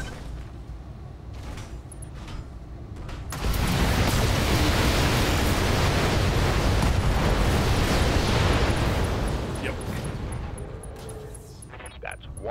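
A BattleTech mech's bombard weapon fires and detonates, a sustained, loud rushing roar of explosion that swells, holds for several seconds and then fades back to lower background rumble.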